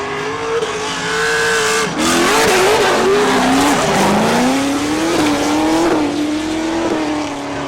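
Two LS-powered Nissan 240SX drift cars tandem at a drift final: engines rev hard and wail while tires squeal and skid continuously, loud and close throughout with no talk.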